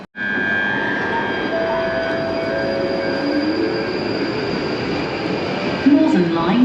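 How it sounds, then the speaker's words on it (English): A London Underground Northern Line train approaches the platform at Colindale, giving a steady, loud rumble with a faint whine that holds for several seconds and swells slightly at the end. "Northern Line, the train now approaching is to Edgware."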